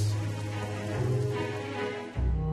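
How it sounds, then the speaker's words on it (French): Heavy evening rain pours down as a steady, dense hiss under a low background hum, with a brief dip and shift in the sound near the end. "Il pleut des cordes toute la soirée et toute la nuit."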